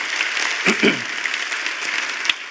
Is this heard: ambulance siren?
no